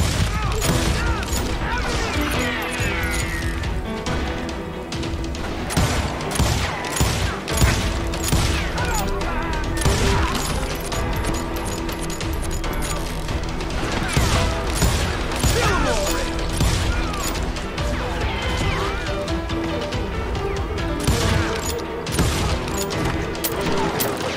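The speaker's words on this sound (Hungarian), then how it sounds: "Komoly lövések." Rapid gunfire from the Wild West shooter Call of Juarez: Gunslinger fills the scene, with dense bursts of sharp shots, ricochets and clattering mechanisms over game music, with someone talking at times.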